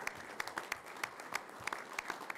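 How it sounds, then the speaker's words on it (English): A city council meeting audience in Roswell, New Mexico applauds the football coaches, a fairly quiet, thin round of clapping with a few distinct sharper claps from nearby hands. "So give them a round of applause"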